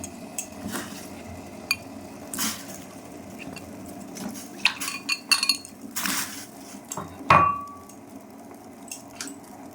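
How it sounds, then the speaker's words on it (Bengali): New potatoes go into a pot of boiling water, producing scattered clinks and knocks of hard objects against metal over a low, steady kitchen background. "জলটা ফুটে এসেছে, এর মধ্যে আমি আলুগুলো সিদ্ধ করতে দিলাম।"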